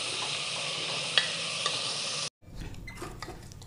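Onions frying in a pan while a spoon stirs them toward golden, a steady close sizzle with occasional scraping taps, cutting off abruptly and then resuming as a quieter, rougher crackle.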